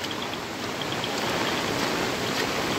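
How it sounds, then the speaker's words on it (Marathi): Heavy rain pours down outdoors in a dense, unbroken hiss that stays loud and steady throughout, with no voices. "पाऊस बघू शकता किती जोरात पाऊस पडतोय ते"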